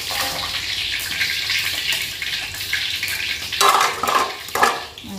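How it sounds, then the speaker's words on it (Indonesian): Tofu fries in a pan with a steady, dense hiss and sizzle, broken near the end by louder crackling bursts, with no one talking. "goreng tahu."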